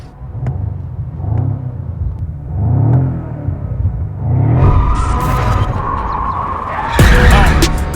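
A rear-wheel-drive BMW M5 drifting, its engine revving in repeated surges before tires squeal and skid loudly in the later seconds, close and intense with no speech.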